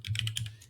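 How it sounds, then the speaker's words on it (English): Quick, soft clicks of typing on a computer keyboard, several keystrokes in a short rapid burst, near and faint against a low steady hum. "he's typing."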